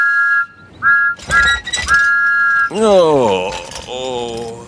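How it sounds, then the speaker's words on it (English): A shrill, tonal toy steam train whistle from a Tomy Trackmaster Thomas set sounds in short toots, then a voice follows with rising and falling expressive sounds, like an animated character vocalizing. "he blew his whistle louder than ever"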